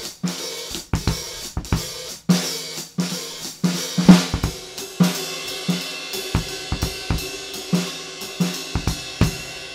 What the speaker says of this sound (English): This time, on top is your hi-hat or ride cymbal, which is the loudest.